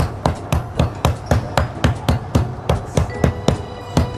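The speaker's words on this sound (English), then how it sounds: "But when we have a hammer like this, what we borrowed in the meat department, we should use it. And we flatten it." A meat hammer pounds meat flat on a board in a kitchen, a steady run of about sixteen sharp, evenly spaced thuds, loud and close, with no talking.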